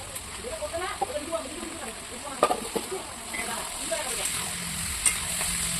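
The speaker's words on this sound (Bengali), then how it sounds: "এই যে মাংসগুলো, এই পেঁয়াজের মধ্যেই ভেজে নেব" Meat fries together with onions in a pan, a continuous sizzle with stirring scrapes and occasional spoon taps, while a voice talks over the cooking throughout.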